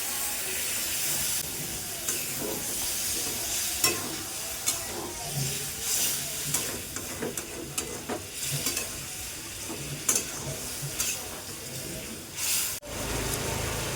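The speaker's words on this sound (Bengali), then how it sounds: "অল্প একটু জল দিয়ে কষিয়ে নেব।" Potatoes with cumin and coriander powder and a little water sautéing in a pan, a loud continuous sizzle and hiss with repeated scraping stir strokes, up close and without talk.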